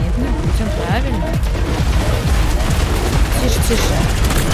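Gunfire from weapons in the video game Atomic Heart, a busy stretch of rapid shots and impacts layered over game music and effects, loud and continuous throughout.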